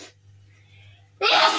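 A single loud, close sneeze bursts out at the end after a quiet stretch with a low steady hum, in a home kitchen during cooking.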